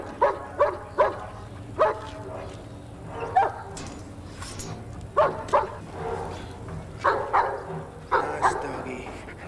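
A dog barks repeatedly in short, sharp yaps and bow-wows with a few whimpering notes, irregular bursts spread over several seconds against a steady low background hum.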